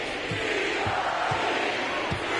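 Crowd noise from an NBA 2K25 arena rises as a continuous, fairly loud wash of cheering and murmur, broken by a few low rhythmic thumps.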